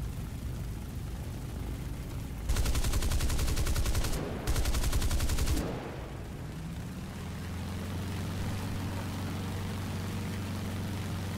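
A War Thunder aircraft makes a strike run with two loud, rapid bursts of gunfire separated by a short gap, then the engine drones on steadily as the firing stops.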